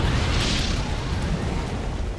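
A loud, continuous barrage of booming cannon shell blasts in Halo Wars: Definitive Edition on Xbox One, with a dense, rumbling wash of noise and no pauses between shots.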